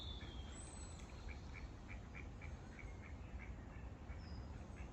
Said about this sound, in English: You duck or swan, whatever you are.